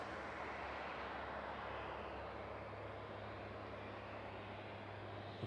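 A National Police Air Service aircraft passes at night near East Midlands Airport, its engine a faint, steady, broadband roar that holds level throughout with no distinct peaks, heard from a distance.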